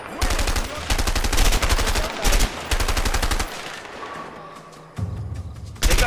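Rapid bursts of gunfire in the co-op prison-escape video game A Way Out, loud and close, with dense repeated volleys that stop and restart in several bursts.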